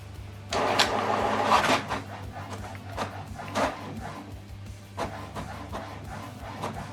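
A printer whirs and clatters through a double-sided color print job, with mechanical feed noises rising and falling over a steady low hum, fairly close.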